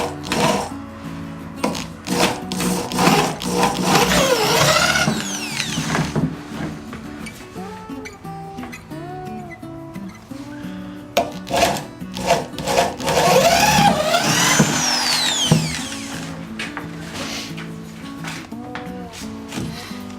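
Variable-speed power drill boring into a wooden board, its motor whining and shifting pitch as it speeds up and slows down. Bursts of grinding and clatter from the wood come through up close, with short pauses between runs.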